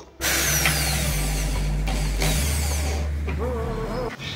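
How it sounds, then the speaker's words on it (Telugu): A power drill whirs steadily and loudly, its motor pitch shifting between two speeds, with faint scraping as the bit bites into a glass jar's lid. "ఈ లిడ్ మీద పెడితే హోల్స్ అనేవి డ్రిల్ చేయొచ్చు"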